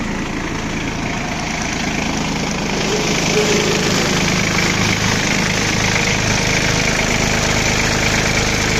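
A Japanese ISEKI SIAL26F mini tractor with a three-cylinder, 26-horsepower engine and 640 hours idles steadily up close, a loud, even mechanical drone that holds throughout.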